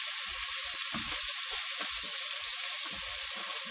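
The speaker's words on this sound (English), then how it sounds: "That is some sizzle" Onions and garlic sizzle steadily in a pot as a continuous bright hiss, close and even throughout, with a few soft low knocks from stirring underneath.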